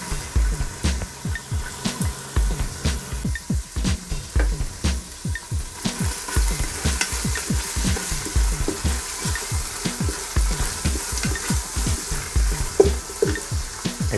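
Red onion fries in a pan with a dense, continuous sizzle, overlaid by a steady train of close, rhythmic stirring scrapes and taps; no one speaks.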